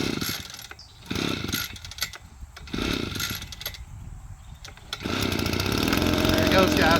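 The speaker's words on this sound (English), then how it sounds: "I'm gonna crank it for the first time" A gas-powered PROYAMA leaf blower/vac/mulcher is pull-started with the choke up: several short rasping cranking bursts, then the small two-stroke engine catches and runs in a loud, steady buzz, close by.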